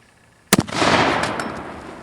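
A 1.75-inch Dahlgren boat howitzer fires live with a sharp, loud single blast, followed by a long rolling boom and echo that slowly fades over the next second and a half.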